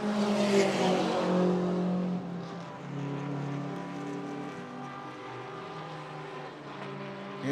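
A BMW race car drives around a circuit, its engine note droning loudly and steadily, then easing a little in pitch and level as it moves away, with no voices over it.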